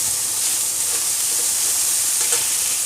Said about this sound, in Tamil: இப்போது இந்த கருவேப்பிலை, இஞ்சி, பச்சை மிளகாய், வெங்காயம் இதெல்லாம் சேர்த்துட்டோம்னா